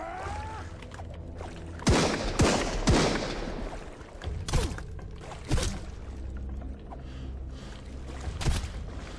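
Enemies fire guns in the survival video game Sunkenland, a scattering of sharp, moderately loud shots in irregular bursts over a background of waves and ambient game sound.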